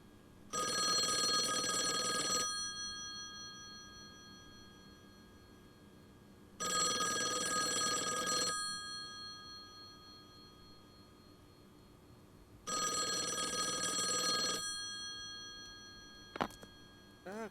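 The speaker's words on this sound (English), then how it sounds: "Phone's ringing." A telephone rings in the Call of the Elder Gods video game, sounding three long, loud bursts of bright, steady ringing separated by pauses, with no talk over it.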